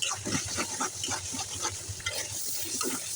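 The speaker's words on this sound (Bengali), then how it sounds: "এখন আমি মশলাটা সুন্দর করে কষিয়ে নিচ্ছি।" Spice paste with turmeric and salt is sautéed in a pan for a hilsa fish dish with radish and red amaranth, giving a close, soft frying sizzle with repeated stirring scrapes.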